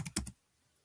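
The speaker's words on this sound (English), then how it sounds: "So in the index we can type in exacerbation" A computer keyboard is tapped in three quick, soft keystrokes close by, followed by quiet.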